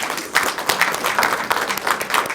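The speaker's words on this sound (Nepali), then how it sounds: "मेरो श्रीमतीलाई ताली बजाइदिनुहोस् न" An audience at a book launch ceremony in Kathmandu applauds the speaker's wife, a dense burst of many hands clapping with slightly uneven swells throughout.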